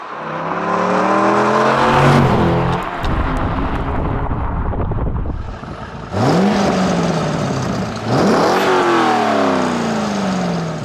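A Corvette V8 engine revs hard several times, deep rumbling swells rising and falling in pitch with brief pauses between blips, close and loud.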